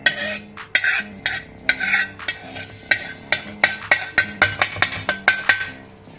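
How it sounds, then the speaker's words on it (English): Roasted spices for a mango pickle go into a stone pestle. A string of sharp knocks and clinks starts irregularly, then settles into an even rhythm of about two per second, close and clear with no talking. "We take a stone pestle and we drop in the ingredients into the stone pestle"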